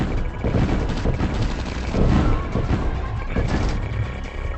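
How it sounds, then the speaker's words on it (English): Dense gunfire and explosions from a real-time strategy video game battle, a loud continuous barrage of shots and blasts with no pauses. "I'm taking heavy fire."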